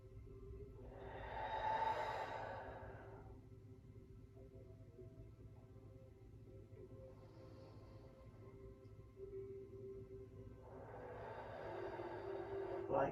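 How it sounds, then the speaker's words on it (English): Slow, deep meditative breaths drawn in through the nose and let out through the mouth, two soft airy swells separated by a quiet pause, faint and close with low background hum. "this meditative breathing, which is inhaling deeply through the nose and out through the mouth"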